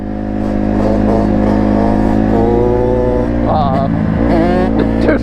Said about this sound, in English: The two-stroke bogged out right there.